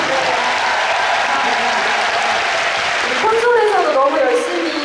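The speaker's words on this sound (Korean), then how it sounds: "그래서 이 자리를 빌어서 다들 박수 한 번만 쳐주세요." A large crowd claps steadily throughout, dense and sustained, with some cheering voices rising near the end.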